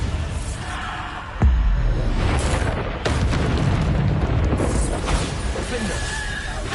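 A Bombarda spell detonating in Hogwarts Legacy, a loud booming blast with a heavy low thump followed by rumbling debris over busy game noise, a second impact landing a moment later.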